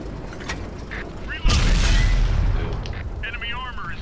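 In World of Tanks, a tank cannon fires one sudden loud boom that rolls off into a rumbling tail, with faint game interface sounds before and after.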